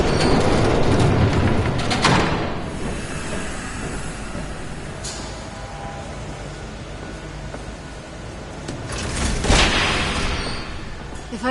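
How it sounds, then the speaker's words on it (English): A train approaches in a video game, a steady rolling rumble with rail clatter that swells around the two- and nine-second marks, loud and continuous with no talk over it. "There's a train coming."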